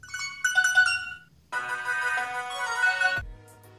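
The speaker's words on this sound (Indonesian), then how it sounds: "Tak lupa cek juga nada SMS-nya." SMS alert of an Alcatel One Touch 818D feature phone: a short melodic electronic tone sequence, a brief phrase, a pause, then a longer sustained phrase, clear and close with no talk.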